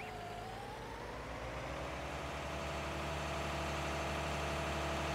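A quad track tractor in Farming Simulator 19 hums with a steady engine drone that stays loud and constant, with a faint rising whine near the start.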